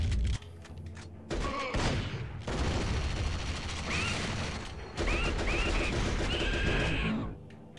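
Video game gunfire from Turok Rage Wars hits the player from behind, heard as dense, rattling bursts of shots with mechanical clatter and brief gaps, fairly close and continuous through most of the clip.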